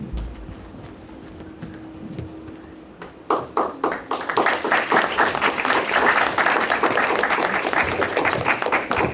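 Audience applause at the closing of a Kyoto University international symposium on human survivability: quiet room noise, then dense, sustained clapping from a large crowd begins about a third of the way through and continues loudly to the end.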